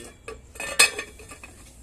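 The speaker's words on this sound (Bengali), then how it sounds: "চল এটা এবার চাপা দিয়ে দিচ্ছি" A metal lid goes down on a cooking pot of soaked rajma with a brief clatter, one sharp clink standing out among a few softer taps at close range.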